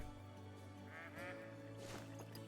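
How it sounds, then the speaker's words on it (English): Ducks fly in during a hunt and give a few honking quacks over a steady low hum, loudest for a moment near the middle. "Got more ducks coming in or what?"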